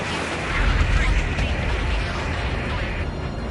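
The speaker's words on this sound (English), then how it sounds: "The harbor's under heavy fire." Heavy rumbling explosions and booming fire at a harbor in the flight combat game Ace Combat 7, a dense sustained barrage swelling loud near the start, with voices talking over it.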